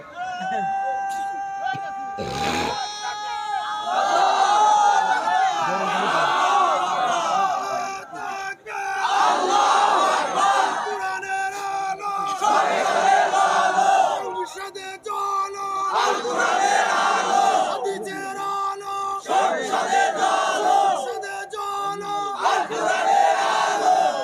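Crowd at a religious rally shouting the takbir chant, a leader calling and a large gathering answering in loud, rhythmic waves of massed voices, repeated several times with brief gaps between.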